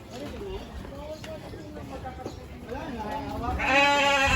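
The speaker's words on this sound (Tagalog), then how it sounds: "Tupa." Sheep bleating on a farm, a few wavering bleats near and fairly loud toward the end, with people talking throughout.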